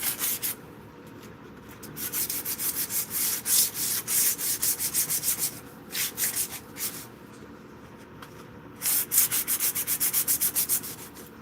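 Wood sanded by hand with sandpaper by someone wearing gloves: steady back-and-forth rasping strokes in quick rhythmic bursts, close and fairly loud, with brief pauses between runs of strokes.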